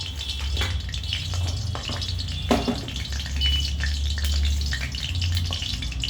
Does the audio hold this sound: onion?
yes